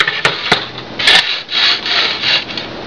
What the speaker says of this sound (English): I'm going to drill in another hole